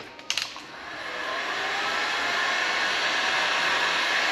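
A heat gun warms vinyl wrap film on a Tesla bumper. A sharp click comes first, then a steady airy roar that rises and holds, loud and close, with no voices.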